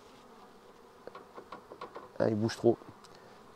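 Bees buzzing at a pollen trap fitted on a beehive, a faint background hum rising into two short, loud close buzzes as insects pass near, with someone speaking briefly.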